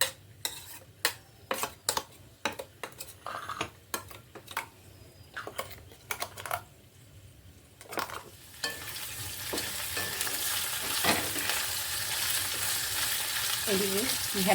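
Okra fries in a pan while sharp clinks and taps of utensils ring out sporadically, then a steady loud sizzle builds and fills the rest, with a brief voice in the background.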